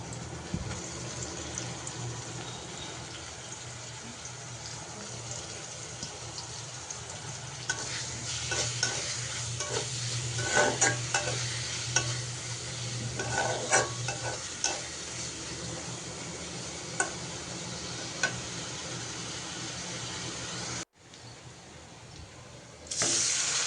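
Sliced onions and green chilies fry in a pan for a home curry, a steady sizzle under frequent scraping stirs and clatter, busier in the middle, with a short break near the end.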